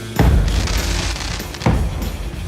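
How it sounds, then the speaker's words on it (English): Firework cakes in the video game Sea of Thieves go off, two loud booming bursts with crackling tails about a second and a half apart. "And then the cakes are a collaboration of different classic fireworks that go off at the same time."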